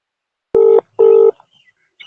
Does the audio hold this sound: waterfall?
no